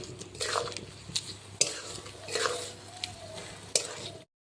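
Cardamom, cinnamon and bay leaf fry in oil with salt and turmeric in a pan, a soft steady sizzle broken by several sharp spoon scrapes and clinks against the metal, close by.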